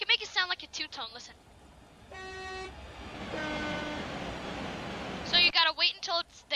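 The two-tone horn of an ICE3 high-speed train in Train Simulator 2015 sounds a sustained tonal blast in the middle of the clip, followed by a rising rush as the train passes, with someone talking before and after.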